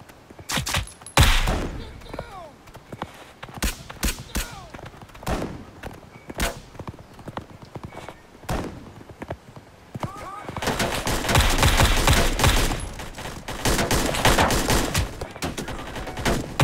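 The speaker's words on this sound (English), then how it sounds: "start pushing up, open fire at enemy contacts." Gunfire in the video game BRM5 cracks out in loud bursts, single shots and rapid volleys early on giving way to a sustained dense fusillade in the second half, close and sharp.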